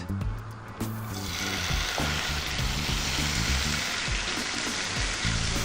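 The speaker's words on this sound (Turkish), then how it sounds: "şimdi aynı tava içinde biraz zeytinyağı, dişe sarımsak ve bizim karides soteleyeceğiz" Shrimp sauté with garlic in olive oil in a pan, giving a loud, dense, continuous sizzle close up. A few scraping clatters sound over it and no one speaks.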